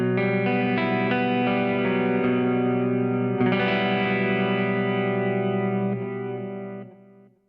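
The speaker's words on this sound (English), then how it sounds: "It's a profile of a Mesa Boogie Lone Star and it's just got a compressor on right now" Electric guitar playing sustained chords through a Kemper profile of a Mesa Boogie Lone Star amp with a compressor, giving a compressed, slightly distorted tone, ringing out steadily and fading at the end.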